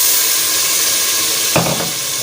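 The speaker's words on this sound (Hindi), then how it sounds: "अभी हम थोड़ा सा पानी डालेंगे" Water splashed into a sizzling curry masala of red chili, turmeric, tomato and onion for a village-style mutton curry: steady frying hiss, then a sudden louder burst of sizzle and bubbling as the water hits the hot pan.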